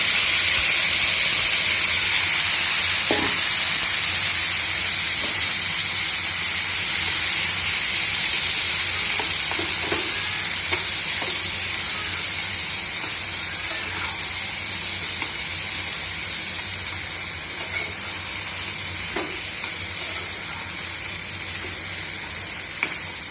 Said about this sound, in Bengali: এরপর আমি দিয়ে দেবো এতে সেদ্ধ করে রাখা সবজিগুলো